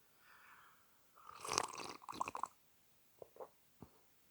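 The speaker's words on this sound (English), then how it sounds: "Y'all hear that gulp?" A person takes a sip of chai tea and swallows, giving a close, wet slurp followed by a few soft, squishy gulping clicks, very near and quiet with no talking.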